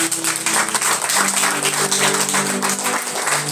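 A church congregation at a Sunday service claps for Jesus in dense, sustained applause that stays loud and even from start to finish, with a faint tonal hum underneath.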